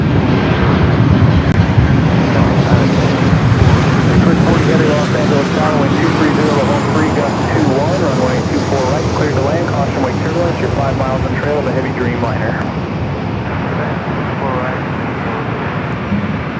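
A United Boeing 737-900ER airliner inbound from Houston arrives at LAX, its steady broadband jet roar filling the whole stretch at close range while radio voices talk over it.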